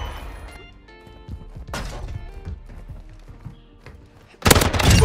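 Shots crack in a fast-paced video game shooter: scattered thuds and pops build to a sudden loud burst of gunfire at the end, with faint talk in the background.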